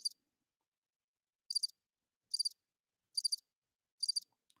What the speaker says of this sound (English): I feel like we need crickets for this.